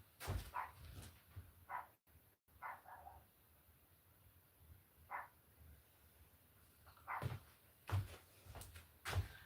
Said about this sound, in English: Okay, she started barking.